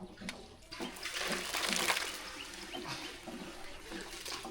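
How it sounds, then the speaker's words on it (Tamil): Cooked rice being drained of its water in a home kitchen: a continuous pouring, splashing flow of water that swells and eases, close by and moderately loud, without talk. "சோறு நல்லா வந்துட்டு தண்ணி வடிகட்டி எடுத்துக்கலாம்"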